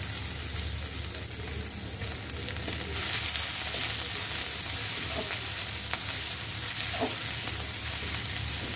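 Ginger paste added to a hot pan while making ghugni, a steady, close, broadband sizzle and frying hiss running throughout with occasional soft stirring scrapes.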